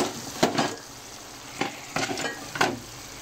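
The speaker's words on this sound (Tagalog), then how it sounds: "Kulong-kulo na. Lagay ko na itong tahong." Mussels drop into sizzling chili garlic oil, with repeated clattering bursts of shells and utensil against the pan over a steady hot frying hiss, close and fairly loud, no talk.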